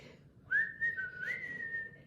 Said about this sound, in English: And he whistled all the way there, and he whistled all the way home.